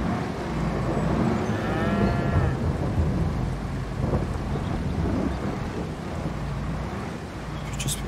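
Cattle lowing in the Farming Simulator 22 video game, a drawn-out moo mid-clip over a constant low rumble of rain and thunder-like ambience, with no talking.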